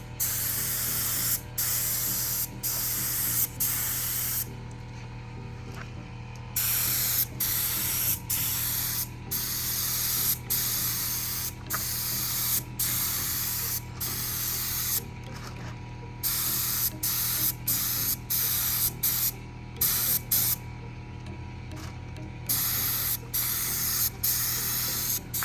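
Spray gun applying a coat of paint to a rebuilt Acura RSX, powered by an air compressor, with a steady loud hiss broken by short pauses and longer gaps between passes, no talking.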